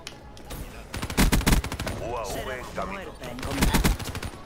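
Gunfire in Black Ops 3, a shotgun with machine-gun bursts mixed in, cracking in loud clustered blasts across the clip while a voice talks over the shooting.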